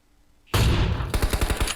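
Close, loud gunfire in the mobile battle royale game PUBG Mobile: a single heavy blast that rings on, then a rapid automatic burst of about seven evenly spaced shots.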